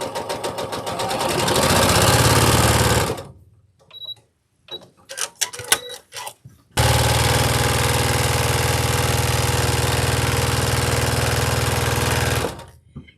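A sewing machine stitches scrap fabric strips into rows for a quilt block. It runs in a steady, close whir for about three seconds, pauses for soft handling clicks and rustles, then whirs again continuously for nearly six seconds.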